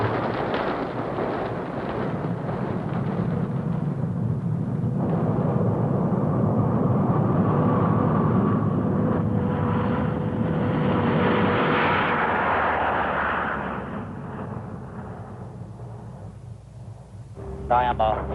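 Lockheed C-130 Hercules engines drone steadily in flight on an air medical evacuation run, a broad continuous roar that fills the cabin and eases slightly near the end, with voices faintly present beneath it.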